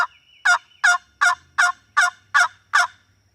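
A wild turkey gobbles in a fast run of seven loud, evenly spaced bursts, close by and clear, with a faint low rumble underneath.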